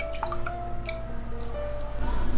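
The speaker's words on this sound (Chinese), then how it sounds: "来加入凉开水或者纯净水，给它清洗一下" Cool boiled or purified water pours over salted, sliced radish to rinse it, giving soft splashing and dripping sounds under a steady background hum.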